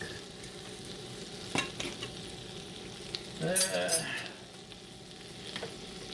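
Garlic sizzling in a cast iron pan with onions, a steady crackle under scattered clinks and scrapes, swelling into a louder burst of spitting as it hits the hot fat.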